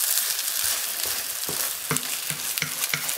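Steady oil sizzle and crackle of meat pie filling in a heavy frying pan, with a few sharper pops and light scraping of stirring partway through.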